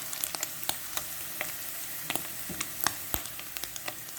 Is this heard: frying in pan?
yes